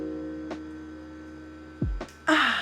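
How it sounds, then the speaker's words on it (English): A home refrigerator gives a low, constant hum throughout, with a few brief clicks and a short rustling noise near the end. "Excuse the sound of the fridge, it's just loud in here."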